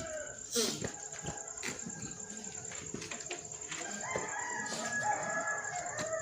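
A rooster crows in a long, rising and falling call in the second half, with shorter fowl sounds earlier, over a steady background of murmuring voices.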